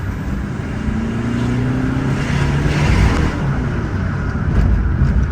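A Peugeot 208 1.4 HDi diesel fitted with a big turbo, intercooler, downpipe and tuned software accelerates hard in second gear. Its loud, close engine drone climbs steadily in pitch under full throttle.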